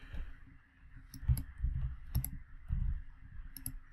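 A computer mouse clicks while someone works in Salesforce Visual Workflow software. The clicks are quiet and crisp, coming singly and in quick pairs over a low background hum.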